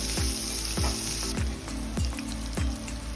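Butter sizzles in a hot pan with onions for pork steak, a dense steady frying crackle broken by regular low knocks roughly every half second as the pan is stirred, close up and without talk.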